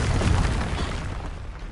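A Confringo spell explodes in the video game Hogwarts Legacy, a loud close boom with a heavy low thump at the start that decays into a rumbling, crackling tail over under two seconds.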